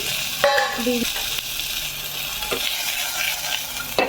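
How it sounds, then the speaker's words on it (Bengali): Mixed vegetables fry in a pan after a cumin tempering, sizzling steadily up close, with several brief clanks and scrapes as they are stirred. "জিরে ফোড়ন দিয়ে দিয়েছি এরপর এর মধ্যে দিয়ে দেবো সমস্ত সবজি"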